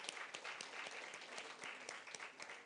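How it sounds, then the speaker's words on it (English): Faint, distant audience applause at a women-in-sales event, a steady patter of many hands with some louder individual claps standing out. "Can we please have a big round of applause for her?"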